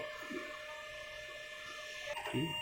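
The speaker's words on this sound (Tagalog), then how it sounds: "So, ititest ko lang po yung printer." An inkjet printer running a head-clean cycle gives a steady mechanical whir with faint clicks and a short burst of louder carriage movement near the end, close by with no talk.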